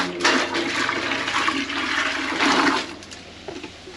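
Water from a pail poured into a toilet that won't flush, at a mountain hut on Huayna Potosi; a loud rushing gush lasting a few seconds, swelling again near the end before trailing off.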